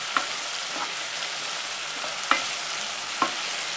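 Vegetables sauté in a pan over medium heat for a Brussels butter bean soup, giving a steady soft sizzle broken by a few sharp clicks and taps of stirring.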